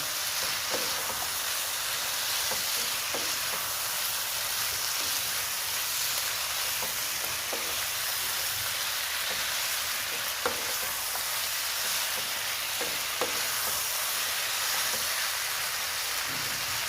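Loitta dried fish, potatoes and dry fruits sizzle in a frying pan as they are stirred, giving a continuous close frying hiss with repeated soft scraping strokes from the spoon.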